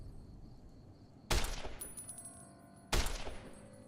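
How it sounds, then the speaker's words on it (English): Gunfire in the video game Fallout New Vegas comes as two sharp, loud shots about a second and a half apart, each trailing off in a ringing, metallic decay over a faint background. "And this gun's actually more accurate than what we would be doing with a cowboy repeater"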